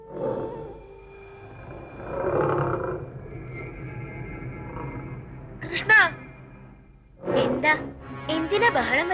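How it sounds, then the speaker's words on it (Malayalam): Lion roaring in the wild, deep rumbling roars rising and falling in the background while people talk over and around them. "സിംഹത്തിന്റെ അലർച്ച കിടക്കുന്നില്ലേ സിംഹം നമ്മളെ കൊന്നു തിന്നും"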